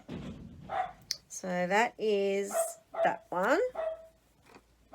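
A dog barks and yelps in short bursts indoors, loud and close, with someone talking briefly at the end.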